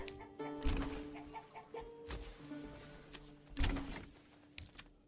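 Chickens cluck softly around a coop in a Manor Lords medieval village, with several intermittent clucks over a quiet ambient background and a few faint knocks and thuds.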